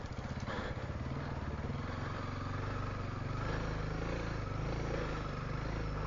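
A Honda CRF300L dual sport motorcycle rides through deep canyon sand in Arizona, its engine droning loud and steady throughout with a fluttering pulse as the rear wheel spins.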